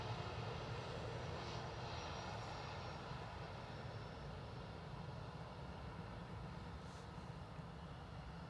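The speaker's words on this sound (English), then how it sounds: "We have an Aer Lingus XLR inbound from JFK." Aer Lingus Airbus A321XLR jet inbound from JFK to Dublin Airport, a steady distant engine roar holding at an even level throughout, broad rumble without any talk.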